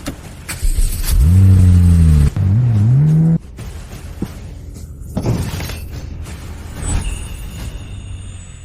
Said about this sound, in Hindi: समीर, जल्दी करो, गाड़ी चलाओ।